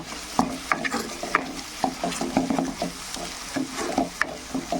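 Spices with turmeric and salt are stirred and fried in a pan for a fish, potato and cauliflower curry: a spoon repeatedly scrapes and knocks close by over a steady, soft sizzle.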